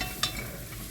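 A spoon stirs stock cubes into liquid for soup, breaking up stubborn, hardened cubes, giving a brief scraping clink near the start over a faint steady background hiss.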